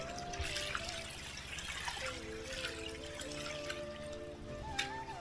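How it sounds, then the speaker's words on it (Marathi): Water from a village spring trickles and splashes steadily as feet are rinsed in it, a quiet close liquid patter with faint tonal sounds in the background and no talk. "हा एक पाण्याचा झरा. मस्त पाय धुवू जरा"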